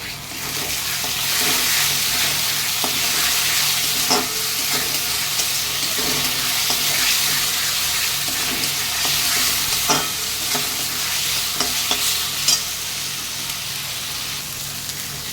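Ginger and garlic paste frying with browned onions in a pan for homemade chicken kosha, a steady loud sizzle broken by scraping stirs and clinks of the spoon throughout, with no talking.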